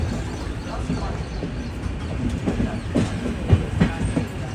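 Humsafar Express train rolling slowly through a loop line into Prayagraj Junction, with a steady low rumble of wheels and rail clatter heard from on board, a few louder knocks near the end.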